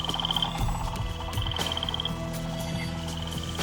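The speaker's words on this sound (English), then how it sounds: "Frogs! Millions of them! Everywhere!" A dense chorus of many frogs croaks steadily, with layered repeating calls and rhythmic pulses overlapping in a constant, moderately loud wall of sound.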